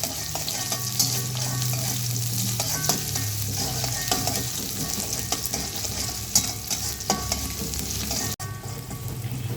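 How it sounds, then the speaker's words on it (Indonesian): Shallots, garlic and ginger sauté in hot oil, a steady near sizzle with light spatula scrapes and small pops, one sharp knock near the end, no voices. "Kita panaskan minyak untuk menumis, masukkan bawang merah, bawang putih dan jahe."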